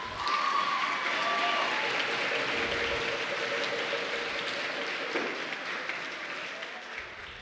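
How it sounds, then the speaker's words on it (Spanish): An audience at a student oratory contest applauds, dense sustained clapping from a crowd in a hall that fades gradually toward the end, with a voice faintly audible beneath. "Le damos un fuerte aplauso a la estudiante Idalina Brooks del Colegio Abel Bravo."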